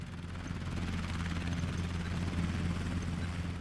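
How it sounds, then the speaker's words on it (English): A Ka-52 attack helicopter in the war strategy game Systemic War drones in close with a steady, low rotor thrum that stays loud and even throughout; no voices. "They also have a Ka-52 helicopter coming in here."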